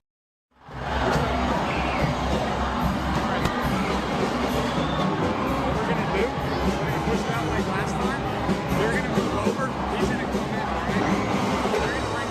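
A high school basketball crowd at Johnson Arena roars after a win over the Bulldogs, a loud, dense, continuous wall of cheering and shouting that starts abruptly and holds steady.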